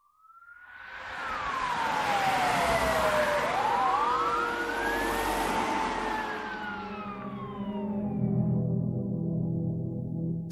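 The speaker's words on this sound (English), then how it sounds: "fire trucks, police cruisers, and an ambulance roared through the small town" Fire trucks, police cruisers and an ambulance race through the small town of Innisfail, their loud wailing sirens sweeping up and down over a heavy engine rumble, several tones overlapping with no voices.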